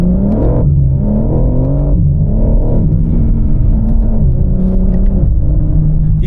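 A BMW G82 M4 Competition's engine rumbles and revs while driving up the Klausen Pass, a deep loud growl that rises and falls with repeated throttle swells and gear changes, no talking over it.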